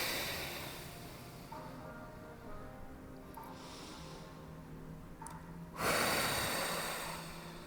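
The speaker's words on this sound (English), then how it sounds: "Taking a deep breath in" Slow deep breathing during a stretch class, a long soft inhale with gentle breathy noise, followed by a louder, fuller exhale near the end, close and quiet over a faint background hum.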